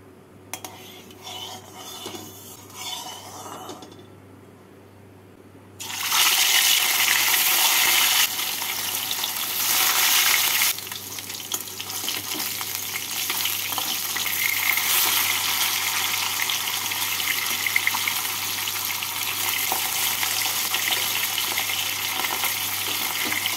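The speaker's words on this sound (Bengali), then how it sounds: "তেল দিয়ে তেলটাকে ভালো করে গরম করে নিয়ে এর মধ্যে মাছগুলোকে হালকা লাল করে ভেজে তুলে নেব" Fish pieces for a doi katla dish frying in hot mustard oil, starting with quiet clinks and handling, then a loud, dense sizzle bursts in and continues steadily.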